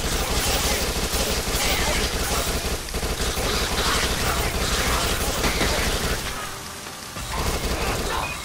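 Sustained rapid SMG fire from the zombie shooter Dead Nation Apocalypse Edition on PS4, dense and loud, with a short dip near the end before the shooting picks back up.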